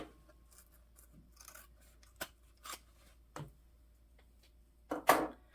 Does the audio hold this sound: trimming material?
yes